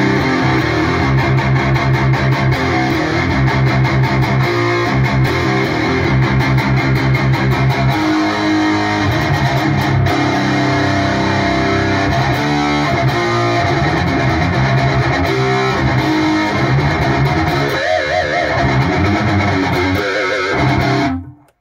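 Electric guitar through an ISet Heavy Metal distortion pedal plays continuously for about twenty seconds, loud and saturated with a thick fuzzy buzz, and then cuts off abruptly.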